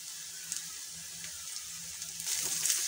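Onion, garlic, ginger paste and chopped green chilli frying in a pan, a steady soft hiss of sizzling oil with a few light clinks, growing a little louder toward the end; no talking.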